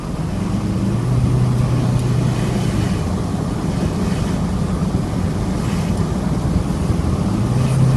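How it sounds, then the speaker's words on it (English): A Subaru EA82T turbo engine in a moving car drones steadily as the throttle is applied, with loud road and wind noise in a continuous roar and a low engine tone rising near the end. "If I get back on the throttle again,"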